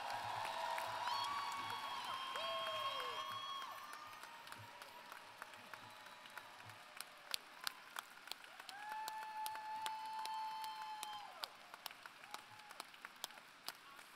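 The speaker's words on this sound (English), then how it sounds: "I think the applause speaks for itself" Audience applause at a 2018 NSCC Truro Campus graduation convocation, a dense steady wash of clapping from a large crowd with a few cheers, fading to scattered claps while faint tones linger in the hall.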